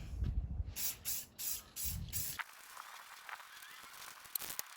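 Aerosol spray paint laid in a heavy black coat on a car wheel, several short hissing bursts in quick succession, fairly close, followed by quieter rustling and handling sounds.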